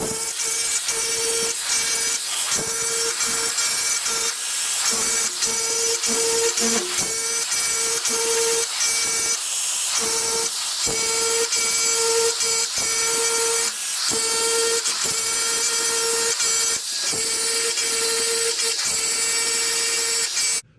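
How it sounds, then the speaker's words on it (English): A variable speed grinder with a sanding disc grinds down welds on mill-scaled steel for a garage-built weld table, giving a loud, continuous whine broken by repeated rasping passes. "it really only grinds the weld because the weld is a lot softer than this mill scale"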